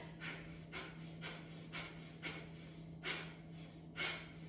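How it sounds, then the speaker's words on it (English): Short, sharp nasal exhales from a yoga breathing exercise with the belly pumping in, repeating at a steady rhythm roughly every half second, close and fairly soft over a low steady hum. "make those exhales short and sharp"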